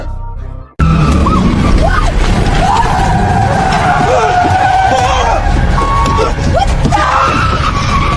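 A car skids after its brakes fail, loud and continuous, with wavering screeching tones over a dense roar and shouting voices mixed in throughout.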